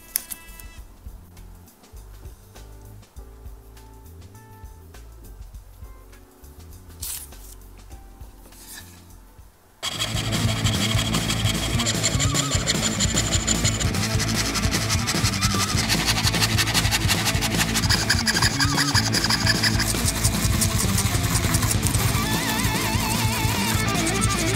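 Quiet scraping and light tapping, then loud, continuous rasping of a saw and file shaping a wooden part at close range.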